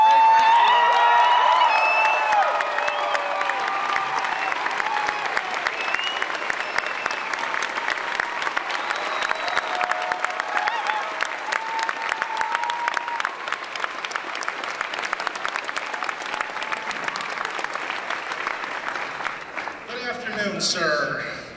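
A large crowd applauds and cheers continuously for about twenty seconds at San Diego Comic-Con 2004, a dense wash of clapping with whoops at the start.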